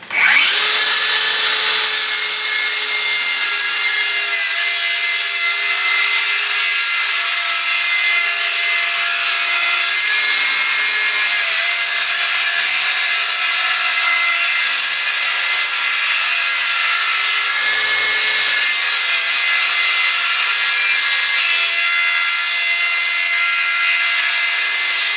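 Continuous loud sawing through wooden shiplap boards, a steady rasping whine running without pause, close by with no talking.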